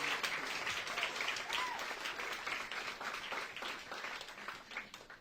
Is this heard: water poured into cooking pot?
no